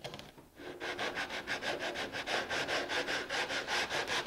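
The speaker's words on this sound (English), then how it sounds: "Just a sanding block will do the trick." A sanding block rubs back and forth over wood in a steady, even rhythm of raspy strokes, close and clear.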